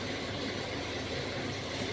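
Water poured into a hot pan of fried onions while cooking bitter gourd sets off a loud, dense, steady sizzle and hiss that holds evenly throughout with no talking.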